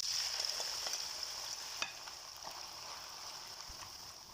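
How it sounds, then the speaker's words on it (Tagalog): Sliced onions coated in cornstarch fry in hot oil, giving a steady, close, bright sizzle that holds throughout with a few faint pops and crackles. "So, i-fry lang natin yung ating onion."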